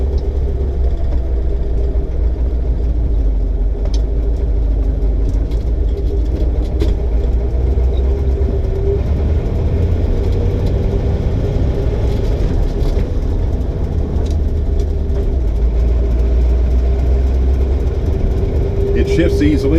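A 1937 Ford V8 Convertible Sedan drives along with its engine at a raised cold idle, giving a loud, steady low rumble throughout while someone talks over it.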